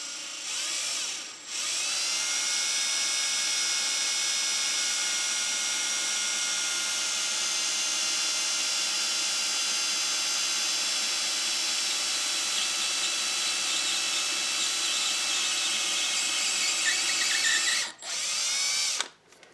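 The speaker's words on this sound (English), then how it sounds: "we put the 5/64 drill bit in, and you want to hold the drill straight" A power drill fitted with a 5/64 bit bores into the air fuel screw of a six pack carburetor, giving a steady, high, close whine that starts after a brief pause and cuts out near the end.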